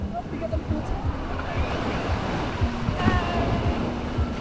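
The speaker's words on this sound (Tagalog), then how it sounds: "Malakas yung alon." Strong ocean waves break on a Zambales beach, a rough, continuous surf wash under wind buffeting against the microphone, with faint voices in the background.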